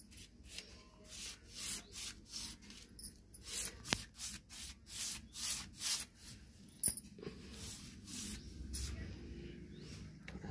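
A paintbrush sweeps paint across a surface in steady back-and-forth strokes, each a soft, close rasping swish repeated in an even rhythm, with a couple of faint knocks in between.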